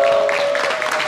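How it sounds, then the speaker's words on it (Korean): An audience applauding at a public gathering, a dense, steady wash of clapping that holds for about a second with a faint tone sustained underneath. "박수 한번 보내주세요."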